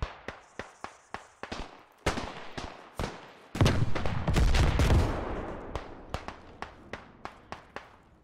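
Gunfire rings out in the video game Beyond The Wire: loud, sharp single shots in a steady rhythm, broken by a heavier sustained burst of firing midway before the spaced shots resume.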